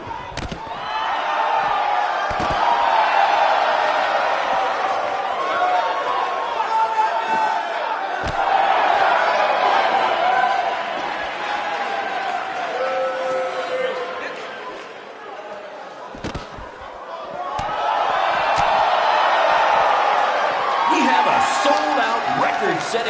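Arena crowd in the WWE 2K19 wrestling game roars and cheers loudly and steadily throughout, swelling in waves with a brief dip mid-way, with scattered impact slams and whoops.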